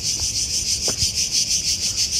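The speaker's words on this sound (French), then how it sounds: "On entend les cigales" Cicadas in Athens drone loudly and without a break, a shrill, pulsing buzz that swells and dips in a steady rhythm. A couple of faint, brief background noises sit beneath it.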